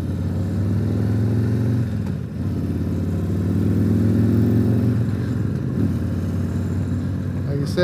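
The engine of a Harley Tri-Glide three-wheel motorcycle with a cable clutch idles and revs in a low, throaty drone, close and loud. The pitch rises and falls through a couple of blips, with a brief dip near the start.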